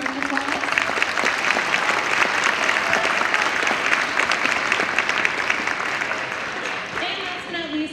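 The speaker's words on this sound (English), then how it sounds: "please give her a round of applause" Audience applause at a middle school spring concert, steady dense clapping from a crowd filling the room for several seconds, beginning to thin toward the end.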